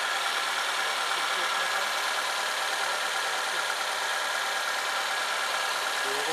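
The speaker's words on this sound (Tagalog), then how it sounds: "Tahimik yung makina nito." A 2007 Toyota Avanza fitted with an HHO kit idles steadily and quietly, a smooth, even hum with light mechanical chatter running through the whole stretch and no voices.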